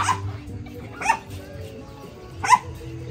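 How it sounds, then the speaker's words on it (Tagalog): Dog barking, one of two dogs kept at a small tiny home: three sharp barks spaced about a second apart, fairly close, over a low background hum. "Meron silang aso, dalawa."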